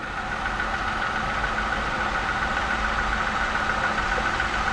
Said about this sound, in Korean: 제가 탔던 차들보다 미세하게 피스톤 슬랩 같은 소리가 나요